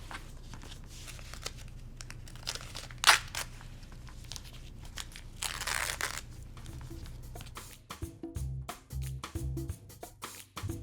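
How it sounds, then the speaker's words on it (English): Foundation paper is torn away from a sewn quilt block in quick crinkling, ripping bursts, close and clear, with one longer rip midway and softer handling rustles toward the end. "you just pull your paper off from the outside towards the inside"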